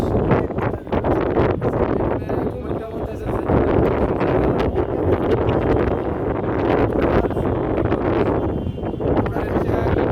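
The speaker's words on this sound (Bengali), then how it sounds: "গ্রামের বাতাস" Wind rushes steadily in a broad, continuous roar high up on a fourteenth-floor rooftop over Dhaka at night, with gusty buffeting against the microphone and faint traffic noise below.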